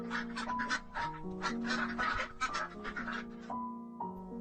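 Cartoon ducks at a village pond quack in a busy, overlapping chorus of short nasal calls, steady and fairly loud throughout, with a soft musical tone underneath.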